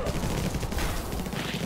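Rockets and gunfire blasting in the alien-shooter video game Infested Planet, a dense, continuous barrage of overlapping explosive bursts with no pauses, loud throughout.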